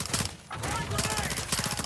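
Rapid bursts of automatic gunfire in the Warzone 2 DMZ video game, sustained rattling volleys with a brief pause, heard alongside quiet talk.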